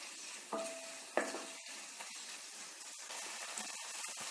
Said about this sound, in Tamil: இப்ப வெங்காயம் தக்காளி நல்லா சாஃப்டா வதங்கிடுச்சு